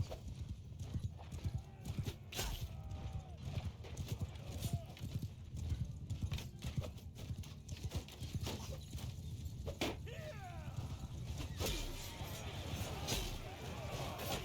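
Horses gallop in a Mount & Blade II: Bannerlord battle, a dense, continuous thunder of hoofbeats with the occasional whinny, under a man's speech and scattered battle noise.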